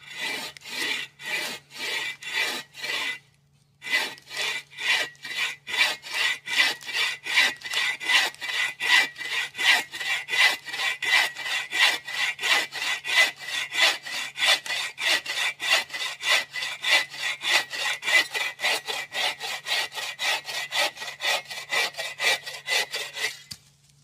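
Rhythmic rasping strokes of a hand saw cutting wood near a knot, close and steady, with a brief pause early before the back-and-forth sawing resumes quickly.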